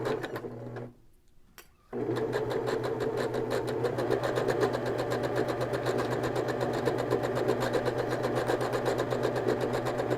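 A home sewing machine stitching a long straight seam on a fabric popcorn bag, a steady rapid mechanical whir with a brief pause near the start before the motor runs on evenly.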